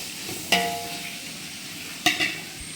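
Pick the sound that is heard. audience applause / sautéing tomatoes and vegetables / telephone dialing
sautéing tomatoes and vegetables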